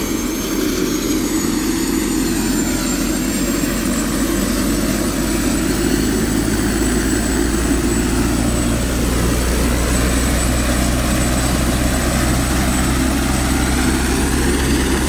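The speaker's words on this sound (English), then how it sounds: "the helicopter is loaded and they are getting ready to take off" A loaded helicopter getting ready to take off at a car wreck runs loud and close, a steady roaring whine with a thumping rotor beat that holds constant throughout.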